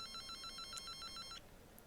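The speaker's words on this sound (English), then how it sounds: "First we'll take the phone call" A phone rings in the video game Nightfall Berlin: about eight quick, evenly spaced electronic trills repeat in a bright, steady pattern, then cut off abruptly, with no voices over them.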